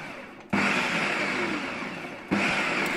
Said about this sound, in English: Bit more blending.